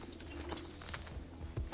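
A horse's hooves clip-clop in Assassin's Creed: Brotherhood, a few quiet, uneven thuds of a mount trotting nearby, low and soft with a faint background hum.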